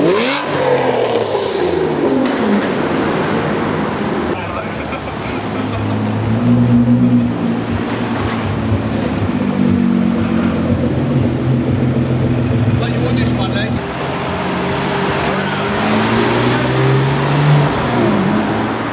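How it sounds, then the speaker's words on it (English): A Lamborghini Murcielago LP640 coupe drives past on a street in London, its engine revving in loud rising and falling pulls across the whole stretch, with people talking and traffic noise around it. "Just stumbled upon this gorgeous LP640 coupe."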